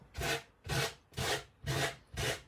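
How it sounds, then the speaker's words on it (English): Coarse sandpaper rubbed over a wooden tray in five steady, evenly spaced back-and-forth strokes, close and fairly soft, with no voices. "You can use a really coarse sandpaper."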